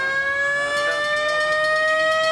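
Vintage ambulance siren at a transport rally, sounding as a steady, loud, sustained tone that holds its pitch, with no talk over it.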